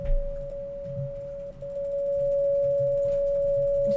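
A steady sine wave test tone plays in Wwise audio software, one pure unbroken pitch that holds for the whole stretch, moderately loud over faint clicks and low background noise.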